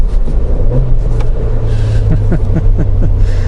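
A Suzuki Jimny on a wet road during a heel-and-toe downshift, with a close engine rumble, a quick throttle blip that rises in pitch, then a few more short revs as the gear changes.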